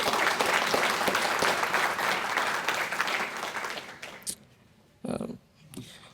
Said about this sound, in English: I just want to give them a round of applause for their hard work